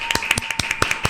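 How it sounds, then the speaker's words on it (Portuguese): A small audience claps for a podcast, quick uneven hand claps close by, sparse and light rather than a full roar, lasting only a moment. "Uma salva de palmas, minha gente"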